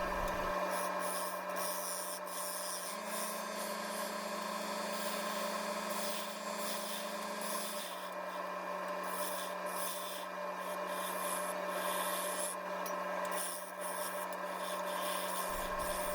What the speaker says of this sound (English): back and forth between the skew chisel and the bowl gouge to make the mortise